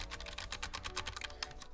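Rapid typing on a Keychron keyboard, a steady stream of soft, close keystrokes with no voices.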